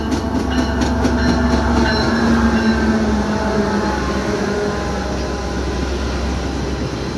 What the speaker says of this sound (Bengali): এই যে ট্রেন ঢুকছে শিকাগো থেকে ট্রেন। এই স্টেশনের নাম হচ্ছে প্রসপেক্ট হাইটস রেলওয়ে স্টেশন। এই স্টেশনে ঢুকছে।